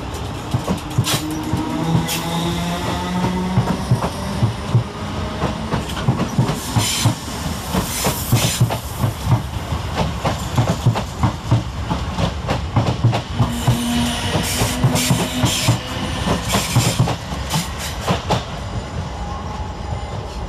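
South Western Railway Class 456 and 455 electric multiple units pull away from platform 10 at Clapham Junction, wheels clacking rhythmically over rail joints with hiss and faint squeals, loud and close for a long, steady pass.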